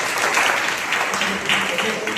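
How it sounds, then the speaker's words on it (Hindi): A church congregation at a Sunday service applauds in a steady, dense wash of many hands filling the hall, continuous and fairly loud throughout with slight surges, voices faintly mixed in. "जोरदार एक ताली बजाइए"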